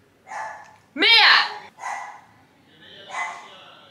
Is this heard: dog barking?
yes